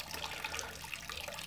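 Water flowing steadily out of the cooling pipes of a Volvo Penta 2003 engine without turbo during a cooling-system flush, a continuous close splashing gush with no talk.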